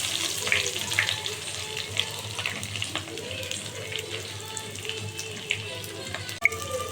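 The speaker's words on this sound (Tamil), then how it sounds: "பெருஞ்சீரகம் எல்லாம் சேர்த்து போட்டு பொரிஞ்சதுக்கப்புறம் ஆனியன் போட்டுக்கலாம்." Whole spices such as fennel seeds, then onion, frying in hot oil for a Kerala-style chicken biryani, giving a steady close sizzle and crackle throughout with an occasional sharper pop or clink near the end.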